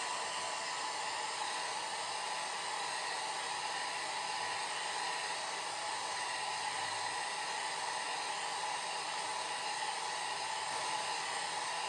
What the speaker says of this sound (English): I'm quickly drying out this part.